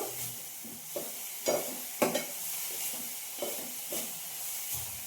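Shredded cabbage fries in a pan with a steady, soft sizzle, broken by repeated scraping stirs of a spoon at an uneven rhythm, close by and moderately quiet.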